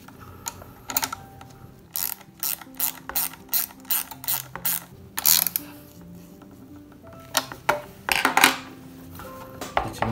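A ratchet tightens bolts and nuts on an Ygeian 7320 stepper exercise machine, sounding as close, loud bursts of rapid clicking repeated many times with short pauses between strokes and no voices.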